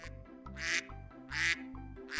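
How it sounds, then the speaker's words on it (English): A cartoon duck in a Peppa Pig farm game gives three loud, nasal quacks at close range, evenly spaced over about two seconds, with a bouncy background tune underneath. "duckies on the farm,"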